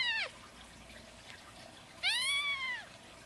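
A newborn kitten meows twice, a short cry at the start and a longer, rising and falling mew after a pause, close and fairly loud against a quiet room.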